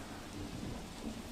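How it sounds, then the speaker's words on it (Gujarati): Heavy unseasonal rain pours steadily over villages in Amreli district, Gujarat, a dense, even hiss with a faint low rumble of thunder beneath, fairly soft and distant. "ગામડાઓના મોડી રાતથી વરસાદ વરસી રહ્યો છે"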